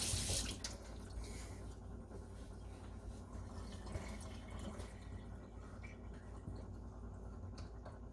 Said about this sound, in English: Wash my hands off real quick.